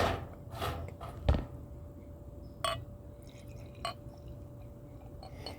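Mothers Brewing Octoberfest beer pours from a bottle into a glass, with scattered splashes and drips and a few sharp clinks over a quiet background.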